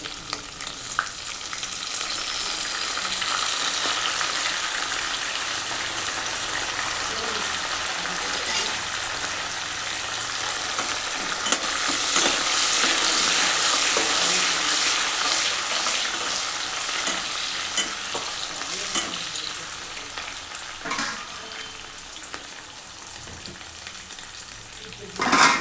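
Green chillies, curry leaves and coriander fry in a pan with a steady, close sizzle that swells and fades as they are stirred, with occasional clinks near the end.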